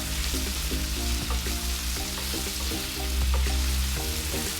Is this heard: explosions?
no